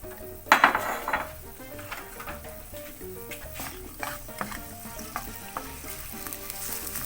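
Chopped onion hitting hot olive oil for a vegan paella, a loud burst of sizzling followed by steady frying with utensil clinks and stirring scrapes.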